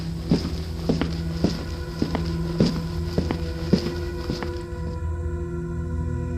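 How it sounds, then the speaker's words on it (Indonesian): Wooden clog sandals walking on asphalt, giving a steady run of about ten hard, hollow footfalls at close range over a constant low background hum, then fading out near the end. "Suaranya seperti sandal bakia yang dibawa jalan di atas aspal"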